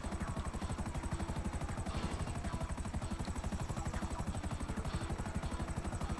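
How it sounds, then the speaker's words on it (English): Helicopter in GTA 5 Online, its rotor chopping in a steady, rapid rhythm with a continuous engine drone, loud and close throughout. "Don't crash into the helicopter."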